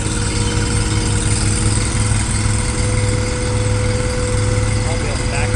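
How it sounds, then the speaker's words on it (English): A big medium-duty truck idles with its power take-off engaged, a steady, loud engine drone with a continuous hum running unbroken throughout. "Gets his remote control, turns on the PTO."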